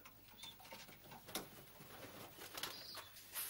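Soft cooing and shuffling of month-old pigeons in a loft, with occasional faint wing flutters, quiet and close.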